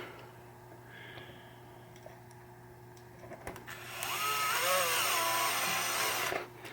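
A power drill drives a screw into a 1972 Williams pinball machine during pop bumper work: a close, steady whine rises after a few quiet seconds, holds with wavering pitch for about two seconds, then cuts off.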